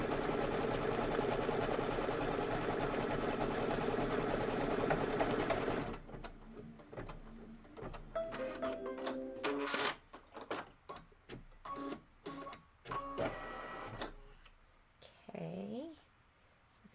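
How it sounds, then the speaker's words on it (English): An embroidery machine stitches a purple flower label detail on a Kimberbell quilt block, a fast even whirring for about six seconds, then stops as someone talks over faint clicks. "then we're going to stitch the flower label detail"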